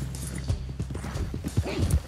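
A horse gallops in Red Dead Redemption 2, a fast rhythmic clip-clop of hooves close by that carries on throughout, with a voice talking faintly underneath.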